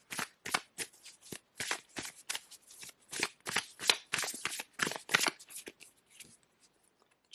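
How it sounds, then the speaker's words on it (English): A deck of oracle cards being shuffled close up, a quick run of crisp riffling flutters and snaps in steady rhythm that slows and fades toward the end, with no talking. "I do want to pull a few oracle cards here just to get some more information."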